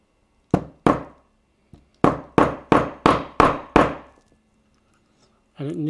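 A soft-faced hammer taps airsoft Hi Capa pistol parts, two sharp knocks followed by a quick run of six evenly spaced, firm strikes, close and loud, with a brief voice at the end.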